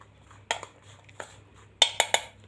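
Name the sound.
mixing cake batter with tutti frutti in a bowl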